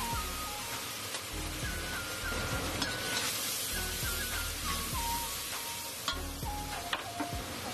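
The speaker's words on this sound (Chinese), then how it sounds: "然后沿着锅边烹入料酒" Cooking wine poured around the edge of a hot wok with green and red Sichuan peppercorns and cauliflower, producing a loud continuous sizzle and hiss with faint stirring clicks throughout.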